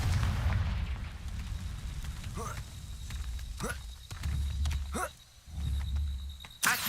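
A Confringo blasting spell explodes in Hogwarts Legacy, with several booming bursts and crackling impacts scattered among roaring creature sounds and battle noise, plus a sharp loud blast at the end.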